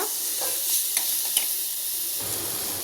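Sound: sautéing asafoetida and spices in oil for amla rasam

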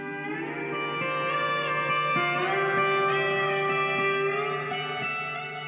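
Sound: pedal steel guitar playing

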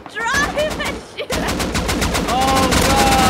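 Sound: gunfire in a video game while driving and shooting

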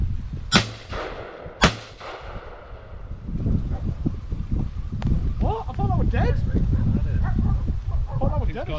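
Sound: gunshot while pigeon shooting

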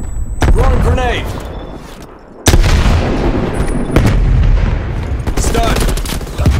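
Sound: grenade thrown and exploding in Call of Duty Black Ops Cold War video game

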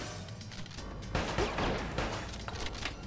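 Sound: gunfire in Bad Boys Miami Takedown video game

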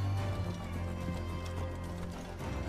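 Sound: horse galloping in the video game Assassin's Creed Origins

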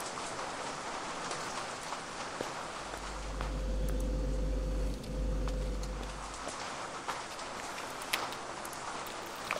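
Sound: rain

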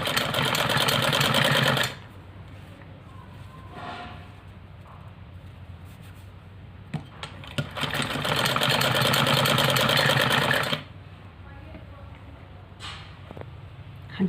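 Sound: sewing machine stitching lace onto a ladies' kameez

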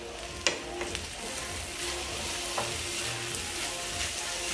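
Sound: chicken and peppers sauteing in a pan

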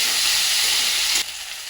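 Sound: onion and tomato frying in a pan

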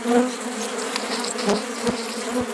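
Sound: honey bees buzzing around a hive frame

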